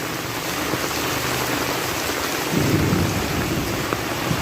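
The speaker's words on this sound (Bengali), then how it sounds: "আমাদের এলাকায় প্রচুর বজ্রপাত হয়" Heavy rain pours steadily over a village in Dhobaura, Mymensingh district, with low thunder rumbling in the background and swelling louder toward the end, with no voices.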